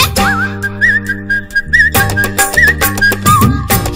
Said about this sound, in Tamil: விசில் அடிக்குது மனசுதான்